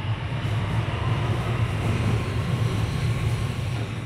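A train's low, steady rumble hums throughout at an empty station platform in Beijing, with no voices nearby.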